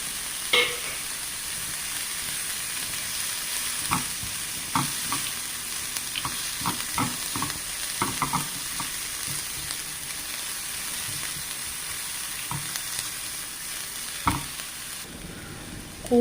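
Chopped green chillies frying with onions in a pan for an onion curry, a continuous close sizzle with scattered spatula scrapes and taps across the whole stretch, no talk.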